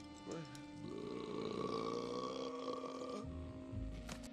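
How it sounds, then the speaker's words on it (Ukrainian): A dragonborn character lets out a deadly burp: a long, loud, guttural belch with a vocal groan, trailing off into a few lower grunting sounds. "після цього добиває його смертельним навиком відрижкою драконородженого"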